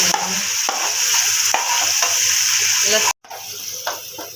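Minced meat frying with garlic sizzles steadily in a pan while a spoon scrapes and stirs through it in repeated strokes, with a brief cutout partway.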